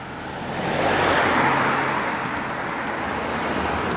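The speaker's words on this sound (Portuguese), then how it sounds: "Alguns carros transitando." Cars pass on a quiet riverside city street in Ljubljana on a cold morning, a broad swelling whoosh of nearby traffic that rises and eases over a steady roadway rumble.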